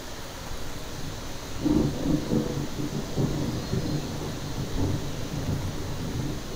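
Minecraft thunderstorm with a steady wash of rain and low, rolling rumbles of thunder building and fading several times at a moderate distance.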